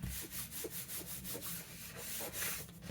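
Vellum paper being trimmed for a scrap-paper junk journal cover topper, a close, quiet series of rhythmic scraping, rubbing strokes that repeat about every quarter second with no talking.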